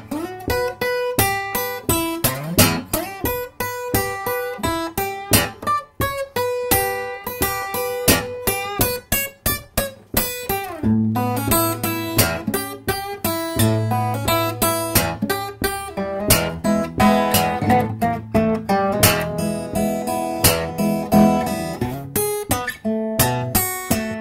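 Country blues verse picked on acoustic guitar, a steady stream of plucked notes and bass thumps played close and clear, with no voice.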